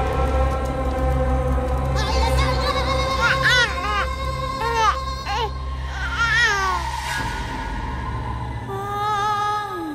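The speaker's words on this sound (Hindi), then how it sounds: "बच्चे की रोने की आवाज।" A baby cries in rising and falling wails, loud and close, repeated in bursts over a low steady background drone, with extra childlike vocal sounds mixed in within a dramatic television scene.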